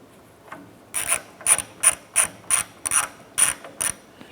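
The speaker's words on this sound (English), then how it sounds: "Let's go ahead and snug that nut down on there." A hand ratchet snugging down a nut during an air shock installation on a 1994-2004 Chevrolet S10, eight or so close, crisp clicking strokes in an even rhythm with no talk.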